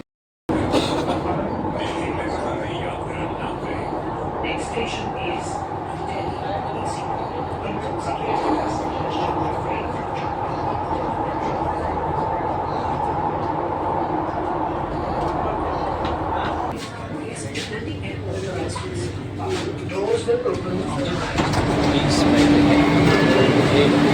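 A train and a metro standing at a station, with a steady low rumble and constant hubbub throughout, a shift in the background partway through and a brief tonal whine near the end.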